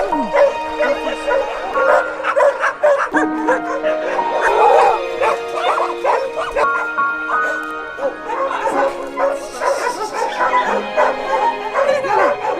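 Several setter hunting dogs bark, yip and whimper in a busy chorus of close, overlapping calls, with people talking among them.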